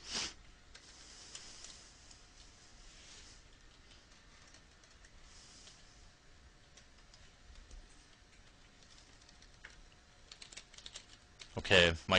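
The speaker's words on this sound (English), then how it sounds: "my cat was just walking on my keyboard," Faint irregular clicking of computer keyboard keys as a cat walks across them, quiet and scattered, ending in a short louder burst of clatter.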